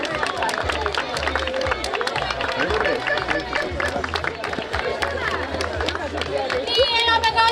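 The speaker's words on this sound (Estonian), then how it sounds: "aplaus, aplaus!" Crowd at an outdoor children's running race claps and cheers continuously, a dense mix of applause, shouts and chatter throughout, with voices calling out over it.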